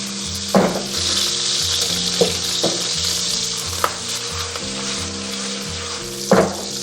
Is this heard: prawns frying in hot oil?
yes